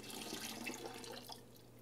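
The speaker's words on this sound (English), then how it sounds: "So pour that back in." Homemade wine poured from a sampling vessel back into a sanitized container during bottling, a steady liquid splash and trickle running throughout at moderate, close level with no talking.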